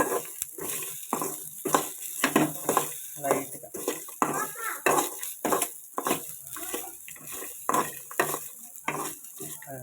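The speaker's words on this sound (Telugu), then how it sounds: "ఇదిగో కొబ్బరి లైట్గా వేపుకోవాలి వేపితే పచ్చివాసన ఉండదు" A spoon scrapes and stirs repeatedly in a pan as grated coconut is lightly roasted over a soft sizzle, a rhythmic stirring sound close by.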